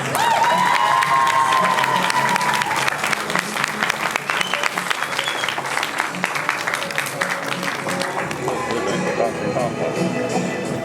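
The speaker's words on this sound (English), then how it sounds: "Let's give them one more round of applause." Loud, sustained applause from a large crowd at a school graduation ceremony, with some cheering and a few voices over the clapping.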